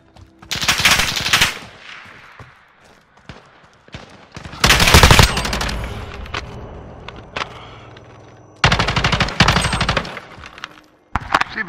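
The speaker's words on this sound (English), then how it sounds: "he's just shooting through the fucking wall" Gunfire in Call of Duty: Modern Warfare on PS4, during a 2v2 alpha match: loud bursts of rapid automatic fire come in several clusters, separated by quieter stretches with footsteps and faint ambient noise.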